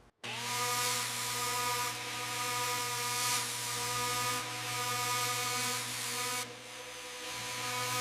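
Rust being ground off the steel fender of a 1930 Ford Model A with a power tool, a loud, steady, close mechanical whine with slight surges for several seconds, then easing off toward the end.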